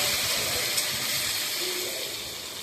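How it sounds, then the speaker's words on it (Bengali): Tomatoes added to hot mustard-style oil left from frying pabda fish, already tempered with cumin and slit green chillies, producing a soft, steady hiss of sizzling that fades slightly toward the end. "আর এই টমেটো দিলাম।"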